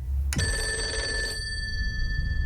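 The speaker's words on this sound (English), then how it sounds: "the phone rang." A telephone bell rings loudly and alone in one sustained burst with a bright metallic tone, then cuts off and leaves a fading ring over a low background rumble.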